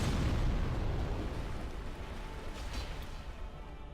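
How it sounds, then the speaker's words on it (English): A boss's explosion attack in Dark Souls Remastered, a heavy, rumbling blast that starts at full strength and decays slowly over several seconds, with no voices over it. "The explosion attack is just as terrifying as always."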